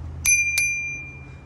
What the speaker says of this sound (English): Fun bell